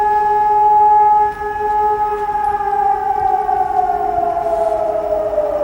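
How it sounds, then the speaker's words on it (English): An outdoor warning siren system under test sounds a loud, sustained wailing tone that slowly falls in pitch, heard alone with no talk. "Now that sounds like they're testing the siren system right there."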